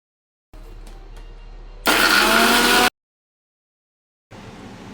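A mixer grinder whirs loudly for about one second as it grinds fried spices and curry leaves for a mixed fruit pickle. Quiet gaps come before and after the burst, and nobody talks.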